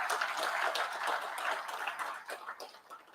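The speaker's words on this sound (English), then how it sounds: "let's clap for the Ministry of Health." Audience at a medical conference opening ceremony claps for the Ministry of Health, a dense, steady patter of many hands held at moderate level for the full stretch before thinning slightly near the end.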